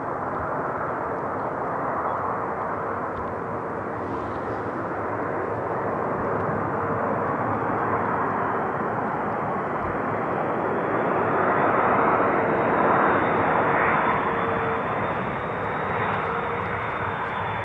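Airliners arriving to land on runway 18R at Amsterdam Schiphol produce a sustained broad jet rumble nearby that builds to a louder peak partway through, with no voices.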